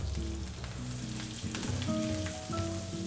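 A fillet searing in a hot pan with butter, aromatics and olive oil gives a loud, continuous close sizzle with faint utensil scrapes and taps, and no speech.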